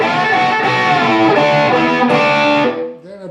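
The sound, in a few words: electric guitar outro lead lick with bends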